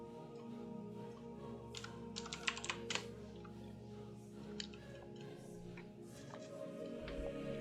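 Close, quiet typing on a computer keyboard, with irregular bursts of key clicks over a low steady hum and no talking.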